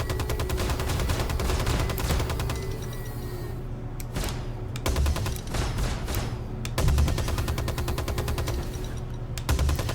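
Sustained rapid Gatling gun fire from the Star Citizen Constellation Andromeda ship, a dense continuous roar of shots with brief gaps and restarts, loud and close throughout.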